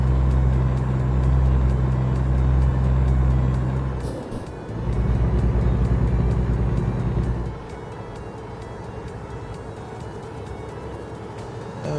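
A Kenworth day cab truck engine in American Truck Simulator drones loud and steady, then drops away briefly before resuming, and finally settles into a quieter, lower hum, with no talk.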